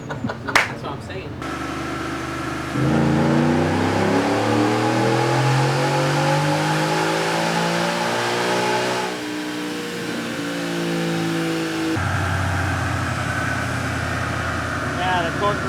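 A 2021 Ford F-150 engine revving during baseline testing on a dyno, with a loud sustained engine note that climbs steadily in pitch over several seconds, then drops and settles into a steady drone, with voices heard over it.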